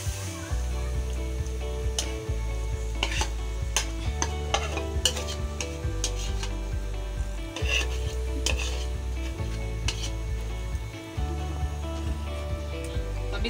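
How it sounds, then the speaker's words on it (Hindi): Cream collected over a week slowly melting in a kadhai on a gas stove while being stirred for ghee, with close, steady scraping strokes and a soft sizzle under a low, continuous background hum. "अब इस मलाई को हम थोड़ा एक दो मिनट तक मेल्ट कर लेंगे। देखिए मेल्ट हो रहा है धीरे धीरे, इसको चलाते रहेंगे।"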